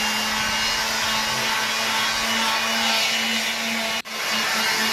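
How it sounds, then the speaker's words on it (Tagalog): A power sanding tool works over a skim-coated wall, giving a steady close whirring and scraping drone with a brief dip near the end and no talking. "Mabilis lang po yung liha niya kasi meron po siyang gamit."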